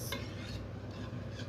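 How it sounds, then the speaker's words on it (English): Banana batter mixed with olive oil in a bowl for banana bread gives a continuous wet, thick stirring and churning with a light utensil clink near the start. "So I mix that with the banana, then adding olive oil. I'm still going to mix that."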